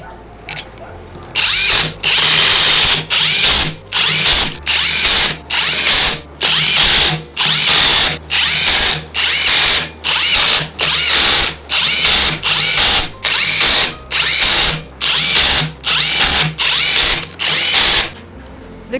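A power tool tightens small engine bolts on an old Daewoo in a repeated series of short, loud whirring bursts separated by brief pauses.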